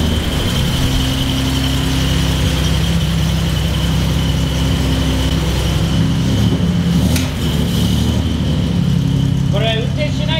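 A Datsun 240Z engine held at a steady high idle, a loud continuous rumble close by, with people talking over it.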